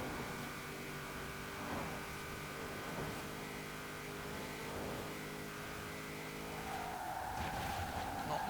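A 1970 Triumph TR6 PI in Forza Horizon 4 roars at high speed, thuds into a barrier and spins, with a steady loud engine drone, tire squeal and a rising screech near the end.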